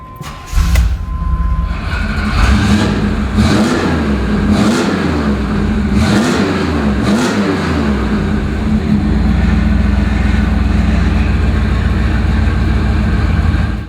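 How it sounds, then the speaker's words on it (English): A 1988 Chevrolet Camaro IROC-Z V8 cranks and catches, then sends several loud, close revs into a deep, rumbling idle with no voices. "let me fire it up for you so you can hear what it sounds like"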